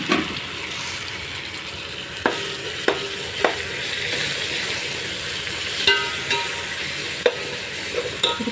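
Mint, coriander and ginger garlic paste frying with browned onions for egg biryani: a steady, loud sizzle fills the whole stretch, broken by a few sharp scrapes and knocks of a stirring spoon against the pan.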